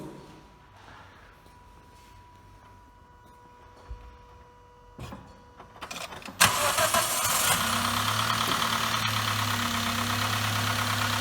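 A Toyota Yaris engine with a faulty catalytic converter (code P0420) cranks and catches after some quiet clicks and handling noises, then settles into a steady, fairly loud idle close by.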